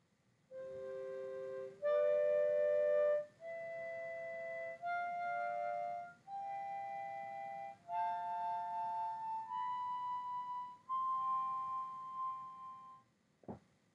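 Harmonica playing a slow stepwise run of single sustained notes, alternating blow and draw, each held about a second and rising in pitch, clear and close with no talk, ending in a brief click.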